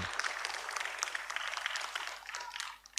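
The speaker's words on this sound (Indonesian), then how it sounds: "Nah, berikan tepuk tangan" A faint, thin round of applause breaks out for a winning class at a school Ramadan event, scattered claps over a steady hum before tapering off.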